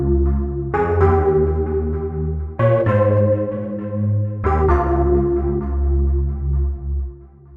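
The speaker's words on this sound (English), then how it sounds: "the final synth I'm going to show you is the synth called Mercury" A slap house synth patch called Mercury plays three sustained stabbed chords with a deep bass underneath. Each chord is struck sharply and left to ring and decay, loud and alone.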